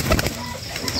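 Pigeons in a hobby loft of Jalali and racer homer birds, with a brief burst of close cooing and fluttering over steady loft noise.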